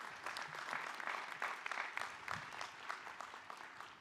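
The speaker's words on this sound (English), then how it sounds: "It says applause here, so go ahead." Steady, sustained applause from a large commencement audience at a business school graduation, dense clapping at a fairly even level throughout with no speech over it.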